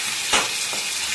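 Spices sautéing in hot oil for a Bengali lote fish curry, a steady sizzle with one louder stir-scrape burst near the start and a fainter one shortly after.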